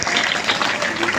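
An audience at a school teacher transfer and farewell function claps steadily, a dense continuous patter of hands filling the short moment.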